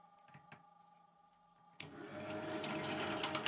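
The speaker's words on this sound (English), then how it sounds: "The hole saw then cuts the large diameter." A hole saw cuts through a plastic plate, starting abruptly after a faint lead-in and continuing as a loud, steady grinding whir with harsh rasping to the end.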